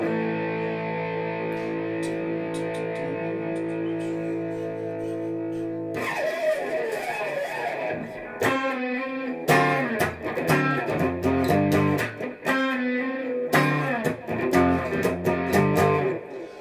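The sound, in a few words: electric guitar quick octave lick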